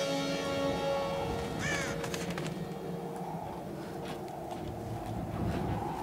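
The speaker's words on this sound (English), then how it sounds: "Okay, birds." Crows cawing in the video game Tomb Raider, a few short harsh calls near the start over a steady rumbling game ambience, with faint voice in the background.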